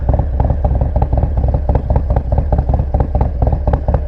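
A 2020 Harley-Davidson Low Rider S motorcycle thumps along on a ride, its V-twin engine giving a loud, close, steady pulsing rumble with a rapid, even beat throughout.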